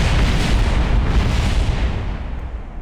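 Heavy rumbling blast of a Kerbal Space Program 1.2 rocket exploding on the launch pad from its bottom main engines, a loud dense roar that holds steady and then slowly fades toward the end, with no talking.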